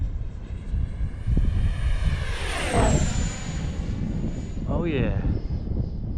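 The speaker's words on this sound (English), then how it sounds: "Oh man, what a lovely plane." Freewing F-5N 80mm electric ducted-fan RC jet on its maiden flight, whooshing past with a rising and falling pitch as it passes, then a second quicker pass, while someone speaks briefly over it.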